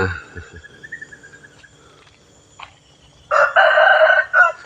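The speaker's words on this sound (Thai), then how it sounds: "เสียงไก่เสียงนกเสียงธรรมชาติ" A rooster crows loudly nearby at a temple in Chae Hom, Lampang, Thailand in the morning, a drawn-out call near the end, preceded by quieter clucking and faint bird and insect sounds in the background.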